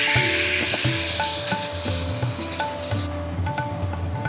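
Fish is poured into hot oil seasoned with bay leaves and dried chilli, giving a strong, steady sizzle, with spoon scrapes and clinks against the pan recurring at a regular pace.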